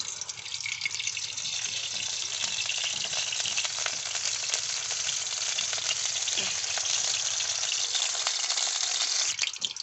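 Oil sizzles in a hot kadai, a dense steady hiss that starts abruptly and holds evenly at close range, with faint crackles and no talking.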